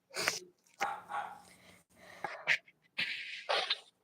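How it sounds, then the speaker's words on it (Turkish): A dog barks several times in short, sharp bursts separated by brief pauses, fairly close, with breathy, sneeze-like edges to some barks. "Arkadan köpek sesleri gelecek bana."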